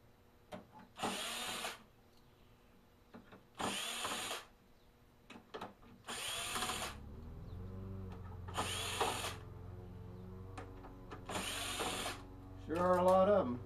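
A powered driver bit backs screws out of a Canon Image Class D320 in five separate whirring bursts, with quiet pauses and soft handling clicks between them. The final burst is loudest.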